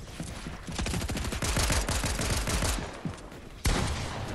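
Rapid bursts of automatic gunfire from a Fortnite match crackle close and loud in a dense fusillade, easing briefly before a sharp single shot near the end.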